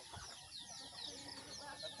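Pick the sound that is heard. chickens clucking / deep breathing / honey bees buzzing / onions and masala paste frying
chickens clucking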